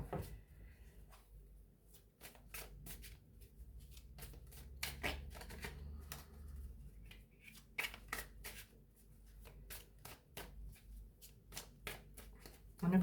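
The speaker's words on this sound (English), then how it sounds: "let's pull some tarot cards for you" Tarot cards shuffled by hand, giving a long run of quick papery riffles and taps, some in dense bursts and some spaced apart, close and moderately loud throughout with no talking.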